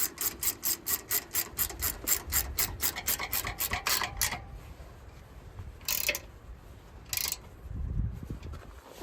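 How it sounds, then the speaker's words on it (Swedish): Straps are ratcheted hard on the cab of a Vimek 870.1 forestry machine, giving a fast series of close, rasping pulls followed by a few separate zipping tugs and light handling noise. "Dra åt de här hårt så att den verkligen sitter."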